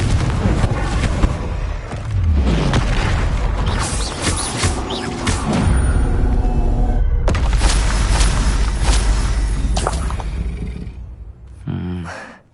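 The Confringo spell sets off explosions in a Harry Potter video game, with loud booming blasts and crashing rumble over continuous game sound while a voice calls out spells.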